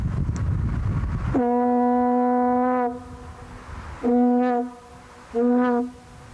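A deep, steady canal boat horn sounds a crossover signal: one long blast, then two shorter ones, carrying over a quiet outdoor background with a gust of wind at first.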